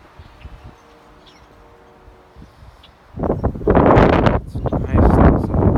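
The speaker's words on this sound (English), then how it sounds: "It's nice outside, except for this wind." Wind gusting outdoors on a windy morning, faint and hushed at first, then turning into loud, rough bursts buffeting the microphone in the second half.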